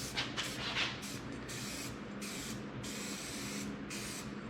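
An aerosol spray paint can hisses out a light coat on the body of a 1961 wagon in a series of short and longer bursts, close and fairly quiet, with no talking.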